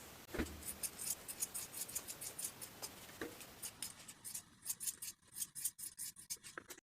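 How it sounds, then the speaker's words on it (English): Sharp scissor snips cut through sewn fabric seams and corners of dress ties, a series of quick crisp clicks and rustles, close and fairly quiet, no talking. "Trim the seams and corners."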